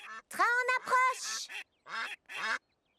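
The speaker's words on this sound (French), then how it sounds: "Oh non, des canards sur les rails." Ducks quacking on railway tracks in a French-dubbed Thomas & Friends cartoon, a burst of several loud nasal quacks in quick succession followed by two shorter calls after a pause, close and clear.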